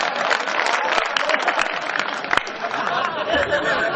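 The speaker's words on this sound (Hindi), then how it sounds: "एक बार इसके सम्मान में तालियां बजा दो।" Audience at an Ujjain kavi sammelan poetry recital applauding in a short burst of clapping mixed with chatter and light laughter, with a voice talking over it.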